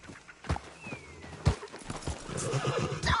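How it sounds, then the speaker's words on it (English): A horse whinnies sharply during a race in the video game Red Dead Redemption 2, amid clip-clopping hooves and other busy game sounds, the neigh loud and close, with scattered thumps around it. "Damn horse acting up on me, of all the times."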